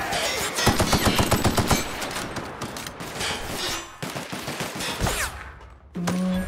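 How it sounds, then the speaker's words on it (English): Assault rifle fire in the sci-fi video game The Outer Worlds, rapid automatic bursts rattling loudly during a fight with marauders, with further shots and game effects continuing over a dense battle background. "Yeah, assault rifle ultra."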